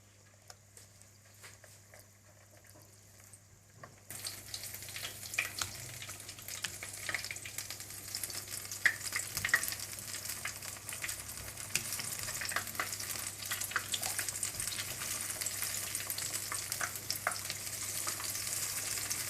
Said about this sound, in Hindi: बेसन का पेस्ट आपने बनाकर आपने मछली पर ये पेस्ट लगाना है इस तरह से, और इसको तल लेना है।